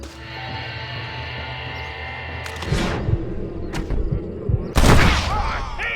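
Gunfire rings out in the Red Dead Redemption video game: two loud sharp shots with echoing tails, the second the heaviest, over a quieter ambient bed.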